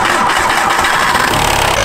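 A vehicle engine cranks and catches, a short loud burst of mid-pitched engine noise, close up and without talk.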